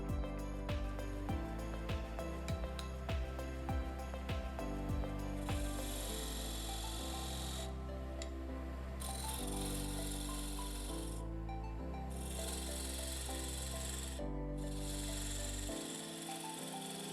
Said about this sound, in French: Je vais maintenant faire le ponçage de la partie du haut